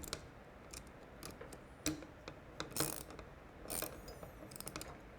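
Metal clicks and ratcheting taps as a bolt is snugged with a 4mm Allen on a Triumph Speedmaster pan tail light kit, faint and close, in short irregular bursts.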